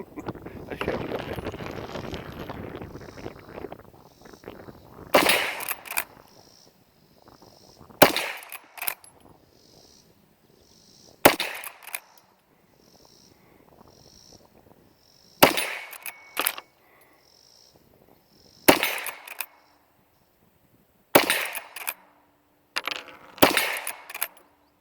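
Loud, sharp gunshots from a 5.56 rifle fired one at a time with pauses between, some in quick pairs, ringing out over an open outdoor setting with wind noise and no talk.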